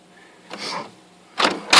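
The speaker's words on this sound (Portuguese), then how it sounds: "liga ela, a impressora que está desligada, ela vai ligar, ela vai para um lado e vai para o outro" Inkjet printer switching on, its carriage whirring briefly to one side and back, a couple of short mechanical motor sweeps with a sharp click, close and fairly quiet.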